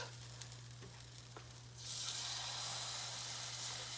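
Atayef mini pancakes sizzle on a hot pan, a steady close frying hiss that swells louder partway through, with no talking.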